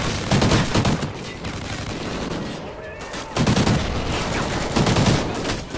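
Gunfire in the Call of Duty Ghosts video game on an oil rig map, loud dense bursts of automatic fire in two long stretches with a brief lull between them.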